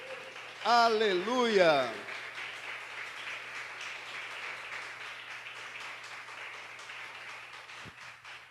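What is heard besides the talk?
church congregation applauding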